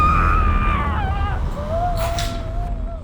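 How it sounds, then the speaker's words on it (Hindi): A woman screams loudly and continuously in a dramatized crime scene, her voice wavering and rising, over a heavy low rumble; a short sharp noise bursts partway through, with no talking. "ये भी ना बहुत चिल्लाने लगी है"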